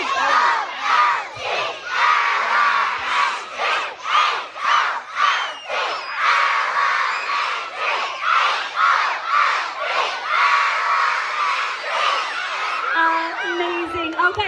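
Elementary school children at a welcome back assembly shouting a school cheer together, a loud crowd of young voices chanting in repeated rhythmic bursts, then breaking into cheering and whoops.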